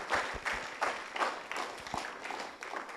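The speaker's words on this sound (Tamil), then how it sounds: "அவங்களுக்கு ஒரு தடவை கைத்தட்டிடுமா அந்த இளைஞர்களுக்கு" An audience applauds the young people who staged an Easter play: a steady, fairly close patter of many hands clapping, with slight swells, sustained for about three seconds.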